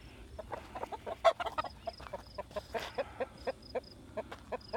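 Backyard chickens cluck in their pen, with rapid, overlapping short clucks and chirps close by, fairly quiet, with no talking.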